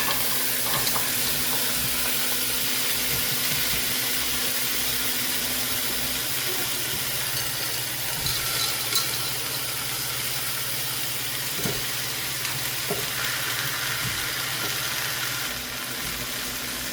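Tomatoes and other vegetables go into a pan of sautéed onions on a home stove, giving a steady, close sizzle and hiss with a low hum beneath and occasional soft clinks.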